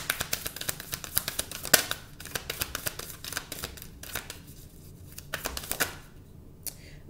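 Tarot cards being shuffled by hand, a string of quick crisp riffling and slapping bursts, close and moderately loud, with brief pauses between, no voices.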